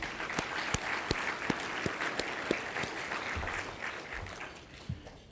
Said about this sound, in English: Everybody please give them a round of applause.